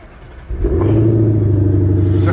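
A Ford Mustang's engine rumbles at idle, then revs up loudly and holds a deep, steady roar close by.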